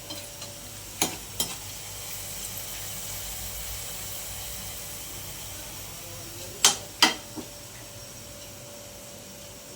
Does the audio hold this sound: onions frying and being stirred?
yes